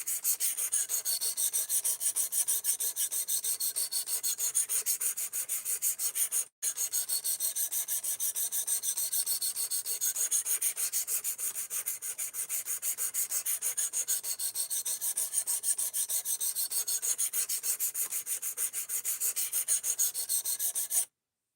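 Blade of an Ozark Trail Axis Lock folding knife worked steadily across a sharpening stone, a continuous close raspy scraping of repeated strokes that pauses briefly once, with no talking.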